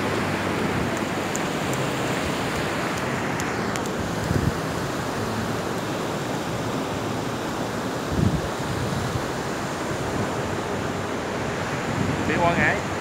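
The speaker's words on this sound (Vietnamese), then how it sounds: "Biển Quảng Ngãi." Sea waves roll in at Quang Ngai beach as a steady, broad wash of surf mixed with wind noise on the microphone, with faint voices in the background.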